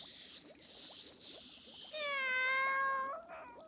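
A cat gives one long, clear, drawn-out meow close by in a Czech-dubbed film. It rises out of a steady hissing background and lasts over a second.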